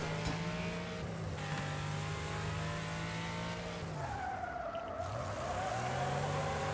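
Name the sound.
car skidding using the e-brake in the video game Wreckfest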